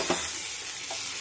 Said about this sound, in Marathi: आणि हे बेसन पीठ हलवून घेऊया,